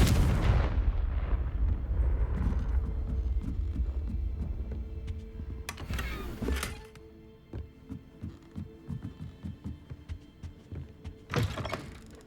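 A Confringo spell blast booms in Hogwarts Legacy, a loud close explosion with a long rumbling decay, followed by a series of rhythmic thuds and two sharp bursts later on.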